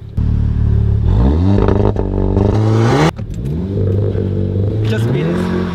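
A RaceChip-tuned 2.0-less Audi A3 1.8 revs hard and loud up through the gears, the engine note climbing in repeated sweeps with a brief dip at each shift, close and dominant with no talk over it.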